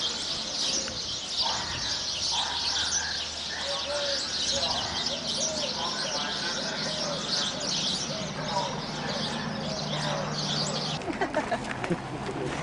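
Birds chirp and pigeons coo around an excavation site in Turkey, a busy outdoor chorus of tweets and soft coos that carries on throughout, with some talk faintly underneath.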